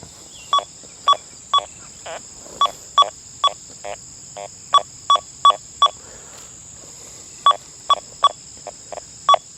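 A Deus 2 HF2 metal detector gives repeated short electronic signal beeps in irregular bursts over a constant high whine, clear and close, with no talking.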